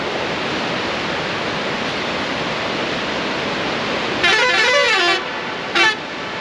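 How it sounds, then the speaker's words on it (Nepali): A loud vehicle horn blares for about a second, then gives a short second toot, over steady rushing road or water noise. "ए हर्न बजा"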